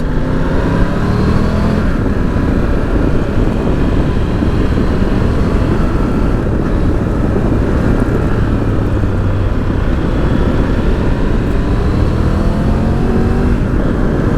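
A Triumph Tiger 1200 GT Pro motorcycle engine gives a loud, continuous drone, the pitch rising and falling with the revs, close and unbroken.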